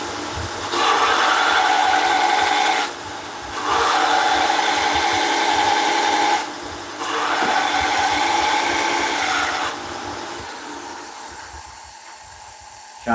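A woodturning tool is sharpened on a grinder with a steady, bright grinding whine in three long passes separated by short gaps, followed by a quieter fading hum, close and loud with no talking.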